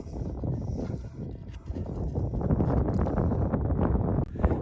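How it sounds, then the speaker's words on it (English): Gusty desert wind buffets the microphone outdoors in Arizona, rumbling and rising in strength, with no voices present. "it's starting to get a little windy out here"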